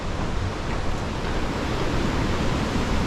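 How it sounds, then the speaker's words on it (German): A large waterfall on the Appalachian Trail in Connecticut rushes in a steady, dense broadband roar that holds at an even loudness throughout, with no voices. "ist ein fetter Wasserfall da hinten"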